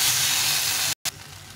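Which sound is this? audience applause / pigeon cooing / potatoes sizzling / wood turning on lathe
potatoes sizzling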